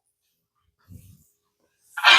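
A single sharp sneeze bursts out near the end, loud and close, preceded by a brief soft low rumble and otherwise quiet.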